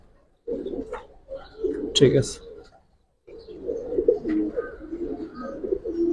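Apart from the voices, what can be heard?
pigeons cooing, Giribaj pigeons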